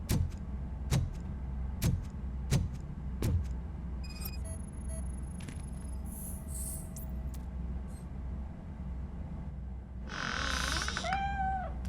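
A cat meows once in a video game: a short, wavering meow near the end, after a series of sharp clicks and thuds over a steady low background hum.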